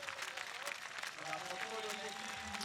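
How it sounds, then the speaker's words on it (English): A big crowd cheers and applauds at the finish of a European orienteering championship relay: a steady wash of distant clapping and cheering that runs under ongoing talk. "cheered by a big crowd today for this final relay"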